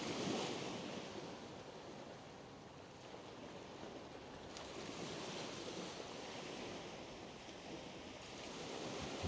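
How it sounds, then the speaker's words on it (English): Sea waves wash and roll continuously against the shore, a steady broadband surf with some wind noise on the microphone, holding fairly even loudness with a slight swell near the end. "Listen to the sea."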